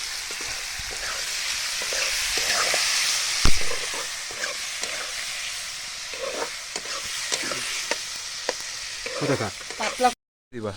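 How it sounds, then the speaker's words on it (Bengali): Potatoes fry in a home kitchen pan with a steady, loud sizzle. Stirring scrapes and clatters against the pan throughout, with a brief louder knock partway through. "আলুটা ভাজা হয়ে যাচ্ছে"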